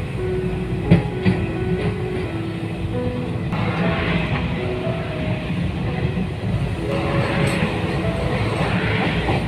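The North Bengal Express rolls across the long Farakka bridge, giving a steady rumbling roar with rhythmic wheel clatter that carries on without a break from start to end.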